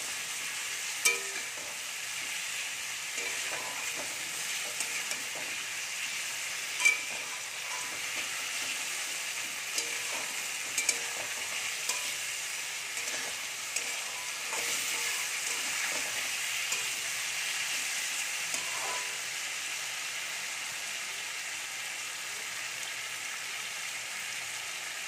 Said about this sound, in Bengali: মশলাটা খুব ভালো করে কষিয়ে নেব।